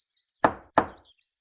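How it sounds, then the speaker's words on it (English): Two sharp knocks on a farmhouse door, close and distinct, spaced a short moment apart, with silence before and after. "Dorothy bravely knocked."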